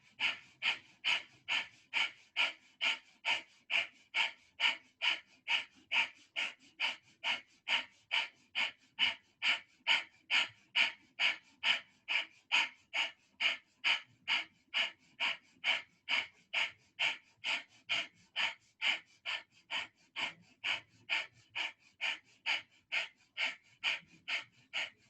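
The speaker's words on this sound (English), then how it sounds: "Continuing with breath of fire, in and out of the nose." Rapid, steady breath of fire pumped in and out through the nose during a kriya, dozens of even, sharp nasal exhalations in a fast unbroken rhythm, close and moderately loud with no talking.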